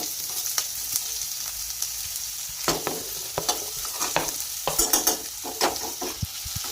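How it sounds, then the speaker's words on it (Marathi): Onion and green chillies fry in a pan over medium heat for Mumbai-style batata poha, a steady sizzle broken by repeated scraping and clacking strokes of a spatula stirring the mix. "मध्यम आसेवरती आपण हे सर्व छान असं फ्राय करून घेऊयात"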